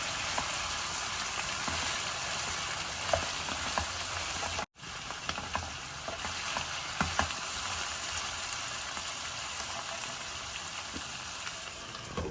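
Potatoes frying in a pan with coriander seeds, a steady dense sizzle and crackle close up, continuous apart from one brief cut, with no talking.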